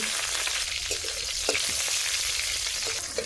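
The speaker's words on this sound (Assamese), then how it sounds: "এতিয়া ভালকৈ ভাজি লৈছোঁ জলকীয়াখিনি।" Dried and fresh chillies with nigella seeds fry in oil in a wok, making a loud, dense, continuous sizzle close up, with a few faint stirring knocks and no voices.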